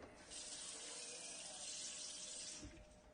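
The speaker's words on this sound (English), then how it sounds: "And I'm going to add some cold water." Cold water runs steadily from a kitchen tap into a bowl for a salt brine, a constant close hiss and splash that carries on for about three seconds before tapering off with a low gurgle.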